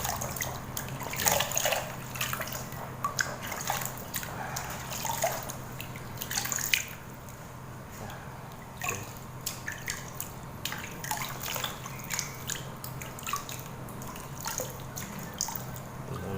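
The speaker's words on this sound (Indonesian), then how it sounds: "sudah terlihat di sini cairan airnya sudah cocor sampai ke bawah" Water poured onto the soil of a potted Aglaonema, trickling and dripping through the medium in irregular small splashes and drips over a steady low background hum, fairly close.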